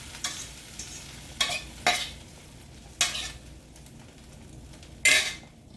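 Whipped eggs poured into a hot frying pan and stirred, a soft steady sizzle broken by several sharp scrapes and clinks of a utensil against the pan, close and alone.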